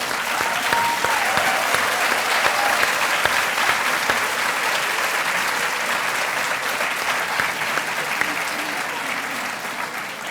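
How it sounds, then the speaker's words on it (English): Sustained applause from a large lecture audience at a public event on the future of Europe after Brexit, dense and steady throughout, with faint voices beneath. "I think he deserves a round of applause."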